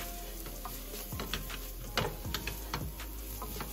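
Onions sauteing for stuffing in an open pan, giving a steady low sizzle with scattered stirring scrapes and clicks near the middle, no talking.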